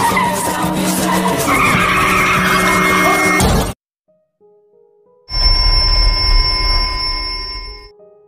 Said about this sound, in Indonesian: sebuah mobil tiba-tiba saja menyalip mobil yang lain dan Callum tak bisa menghindari mobil tersebut hingga benturan tak bisa dihindari